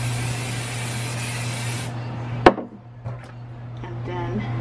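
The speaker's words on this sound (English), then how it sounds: "I'm gonna spray my stabilizer without the hoop" A steady hiss of fabric stabilizer sprayed from an aerosol can runs for a couple of seconds, then stops, followed by a sharp tap and quiet handling noises.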